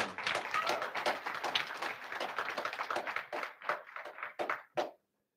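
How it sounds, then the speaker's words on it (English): A congregation at a morning church service gives a round of hand claps, close and busy at first, then thinning into a few scattered claps before it stops abruptly. "Let's give them another hand clap"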